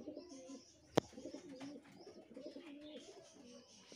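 Loft pigeons, including a chok-line pair, coo repeatedly in low rolling phrases, close and moderately loud, with a single sharp knock near the start and a soft background murmur of other birds.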